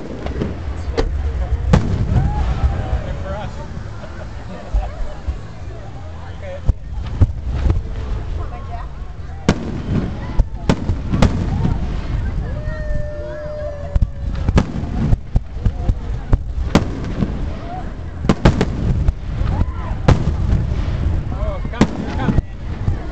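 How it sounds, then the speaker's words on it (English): July 4, 2009 fireworks at South Hills Village in Pittsburgh, Pennsylvania, burst loudly and repeatedly at irregular intervals, with sharp cracks and booms over wind noise on the microphone while people talk nearby. "I think you get an opportunity for fireworks right here."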